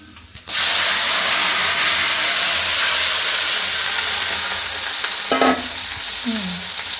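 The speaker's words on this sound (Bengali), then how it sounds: "পাঁচফোড়ন দিয়ে দেব দেওয়ার পরে এই যে টমেটো পিউরিটা দেওয়া আছে এটা দিয়ে দেবো" Panch phoron spices and tomato puree hit hot oil with a sudden loud sizzle and hiss that holds steady for several seconds, with brief scraping stirs near the end and no voices.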